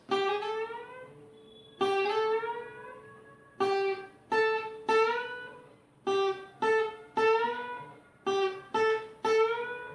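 Slow blues guitar lick with slide and full-step bends, played at medium tempo: a series of plucked notes in short phrases with gliding pitch, ringing clearly and alone without any talking.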